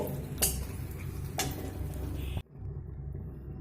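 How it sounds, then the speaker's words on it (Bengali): Two dried red chillies stirred and fried in a pan, a few light clinks of a spatula against the pan over a low sizzle, close, ending abruptly in near quiet. "দুটো শুকনো লঙ্কা একটু নাড়াচাড়া করে লাল করে ভেজে তুলে নেব"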